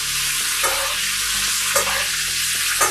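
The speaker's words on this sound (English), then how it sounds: "And you can see the butter starts to bubble." Butter bubbling and sizzling in a tilted pan while a steak is basted, a loud continuous close-up crackle with rhythmic scraping of a spoon against the pan.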